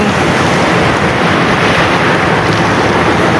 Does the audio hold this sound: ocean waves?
yes